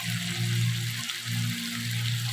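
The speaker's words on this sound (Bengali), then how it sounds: "চিকেনটা কষানো হচ্ছে।" Chicken pieces sear and sizzle in a little oil in a pan, a steady close frying hiss with a low bubbling hum pulsing underneath and a brief dip midway.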